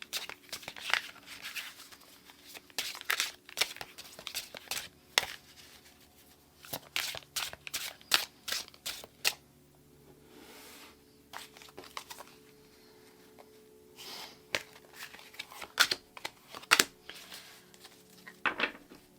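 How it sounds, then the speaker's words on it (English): Tarot and oracle cards are shuffled by hand in repeated crisp bursts of riffling and flicking, close up, with short pauses between handfuls and no talk. "Let us just begin with shuffling a couple cards from each deck."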